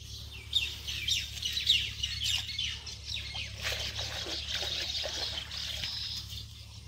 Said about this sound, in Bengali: এই কচুরলতি আমি এখন পরিষ্কার করে ধুয়ে নিব।